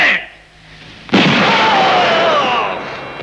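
Gunfire in a film scene: a sharp, heavy blast erupts after a quieter moment and rolls on as a loud, sustained roar with a falling whine, fading slightly at the end.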